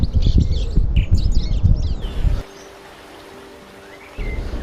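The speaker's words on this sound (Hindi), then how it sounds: "जो आवाज़ें सुनाई देती है वो है पक्षियों की आवाज़ें" Birds chirp and trill for a couple of seconds over a heavy rush of wind or flowing water in the Himachal hills, then the scene drops to a quiet hiss before the rushing noise returns.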